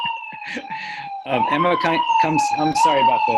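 Emergency vehicle siren wailing steadily outside, a sustained rising and falling tone running through the whole stretch beneath someone talking indoors.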